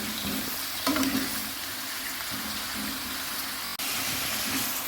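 Eggplant fries in used fish-frying oil with a steady, close sizzle, interrupted by occasional stirring and a brief clatter near the end.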